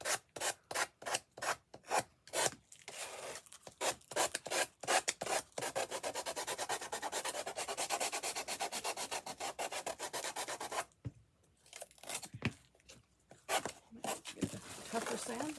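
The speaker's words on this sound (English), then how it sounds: "Maybe we'll sand these edges off real quick." Dense, rhythmic back-and-forth sanding strokes on the edges of a Dollar Tree wreath form birdcage, loud and close, with one short pause before the rubbing resumes.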